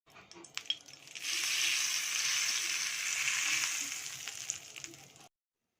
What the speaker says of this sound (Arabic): هتجيب طبق الفول اللي احنا ركناه على جنب واسمع كده صوت التش دي